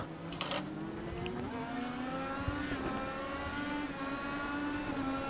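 IndyCar race car engines in iRacing at Circuit of The Americas, a steady droning whine of one car with other cars nearby on track, constant and fairly loud throughout.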